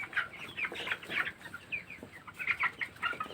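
A flock of 17-day-old broiler chickens on a poultry farm keeps up a steady, fairly faint chorus of overlapping clucks and chirps, with no talking.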